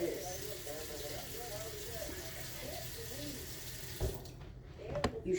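Water is poured into a hot, Teflon-free pan of noodles, making a steady rushing, hissing wash throughout, with a few sharper clanks near the end.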